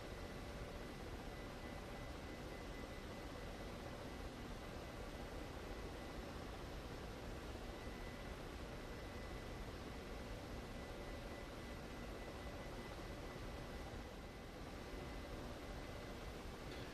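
A Ka-50 helicopter in the DCS flight game flies along with a steady, broadband rotor and turbine whoosh, continuous and even, no voices.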